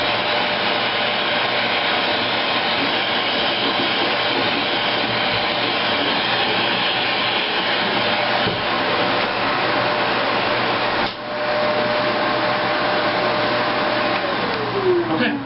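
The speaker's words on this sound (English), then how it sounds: "Next, I take a vacuum, dry clean up as I go" A vacuum cleaner runs steadily with a loud, constant whooshing roar while cleaning up model train track, briefly dipping once before continuing.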